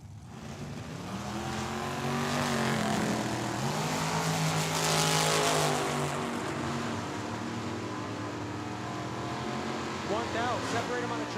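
A Camaro and a dragster racing down a drag strip, loud sustained engine roar with rising and shifting tones, steady throughout under a track announcer's talk.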